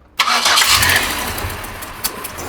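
A Buick LaCrosse engine cranks and catches abruptly, then idles roughly with a cylinder-one spark plug misfire, an uneven, stumbling beat and occasional sharp pops.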